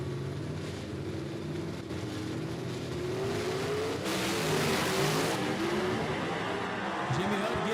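Drag race cars launch off the line at Knoxville Dragway, a distant roar that rises into climbing engine tones as they accelerate away, with a crowd or announcer murmur faintly underneath.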